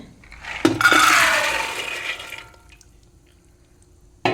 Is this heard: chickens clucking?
no